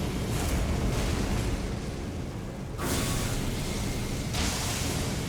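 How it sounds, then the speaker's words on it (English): Delayed follow-up explosions in the Elden Ring DLC boom in a dense, continuous roar, with two or three swelling bursts rising out of a loud rumbling bed, no speech over them. "Oh, there's the after explosions."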